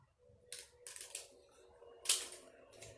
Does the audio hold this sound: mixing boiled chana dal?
no